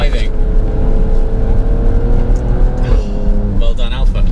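Engine of a 2018 Alfa Romeo Stelvio Quadrifoglio on a first drive, a steady loud low drone of the car underway, with a person talking over it throughout.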